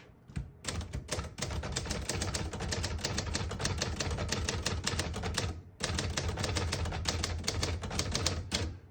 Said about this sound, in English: This is the best typewriter ever produced,